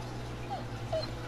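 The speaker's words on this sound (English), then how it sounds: "Oh, poor dog." A dog whimpers in The Walking Dead Season 2 video game, giving a few short, faint high whines over a low steady background hum.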